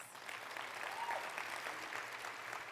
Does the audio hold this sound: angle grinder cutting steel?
no